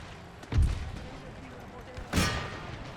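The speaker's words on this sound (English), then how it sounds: "now we've started opening fire into the back of the remaining Danish infantry" Musket volleys in Empire: Total War as line infantry fire into the rear of Danish infantry, two heavy booming bursts about a second and a half apart over a constant battlefield rumble.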